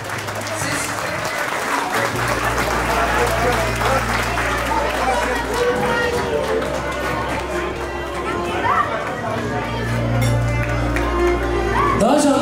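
Wedding guests clap for the newly married couple, a continuous crowd patter with murmured chatter and a low musical hum running beneath, sustained throughout.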